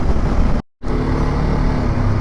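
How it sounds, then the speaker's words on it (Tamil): Road traffic as a steady, loud motor drone from a moving vehicle, cut by a brief dropout before the engine rumble resumes, with no one speaking. "டிராஃபிக் ஆரம்பிச்சிருச்சு"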